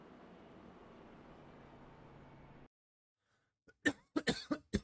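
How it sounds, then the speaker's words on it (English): A person coughing during an iRacing Xfinity Series race at Iowa: after a steady low engine drone cuts out, a short cluster of several harsh, close coughs comes in quick succession. "See, I knew I was going to cough or do something."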